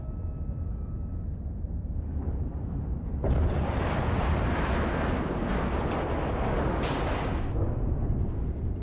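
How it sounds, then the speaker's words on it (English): Civilian Gatling pulse lasers firing from a ship in EVE Online, a steady low rumbling hum that swells into a loud, bright rushing roar for several seconds before easing back, no voices. "we're using civilian Gatling pulse lasers"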